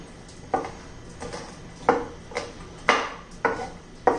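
A knife chops green chillies finely on a board in a home kitchen, making a series of moderate, evenly spaced knocks, about seven cuts, with no talk.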